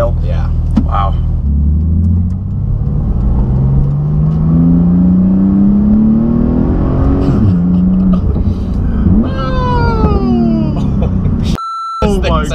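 Engine of a 2019 Porsche GT2 RS, a forced-induction sports car, revving up with rising, falling pitch sweeps and a loud rumble, while electronic beeps and people talking are heard over it.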